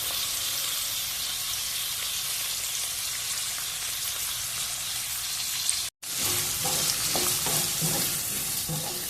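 Cauliflower pieces fry in hot oil with a dense, steady bubbling sizzle; after a brief cut the frying resumes with some stirring and faint background music.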